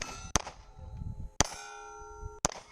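Three sharp metallic pings from bullets hitting a steel target ring out about a second apart, each leaving a sustained ringing tone that fades slowly.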